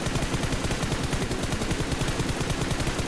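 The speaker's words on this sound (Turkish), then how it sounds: "Adamı her türlü vuruyorum ölmüyor ya" Rapid automatic gunfire in a PUBG-style mobile battle royale game rattles in a dense, continuous burst of close, loud shots for about three seconds.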